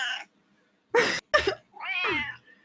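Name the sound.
cats meowing, in a video game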